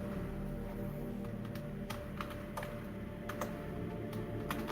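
Fingers type on a computer keyboard in scattered, quick keystroke clicks, soft and close, over a faint steady background hum with no talking.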